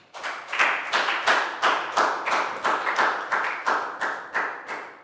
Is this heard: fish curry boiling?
no